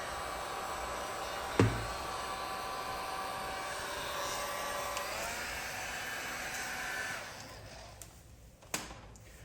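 A heat gun warms dark smoke tint film on a 2022 GMC Sierra 1500 headlight, giving a steady, fairly quiet airy blowing hiss with a couple of brief knocks before the hiss fades toward the end.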